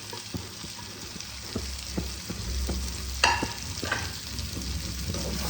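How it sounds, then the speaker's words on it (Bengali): Tomatoes frying in a pan, stirred steadily with a spatula, giving soft scraping strokes over a constant close sizzle, with one sharper clatter midway. "ভালো করে মিশিয়ে নেব।"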